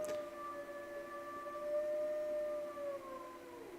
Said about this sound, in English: The howl of an animal. It sounded too high to be a dog.